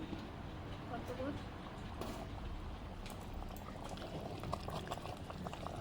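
Chicken simmering in its own juices in a handi, a steady bubbling hiss of boiling liquid throughout, close and continuous.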